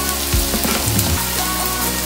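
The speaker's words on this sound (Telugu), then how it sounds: "ఇక్కడ ఆనియన్ అయితే ఫ్రై అయిపోయింది, ఫ్రై అవుతుంది." Chopped onions fry in a pan for a South Indian okra yogurt curry, giving a steady close sizzle with a few dull stirring knocks and scrapes in the first second, with no talking.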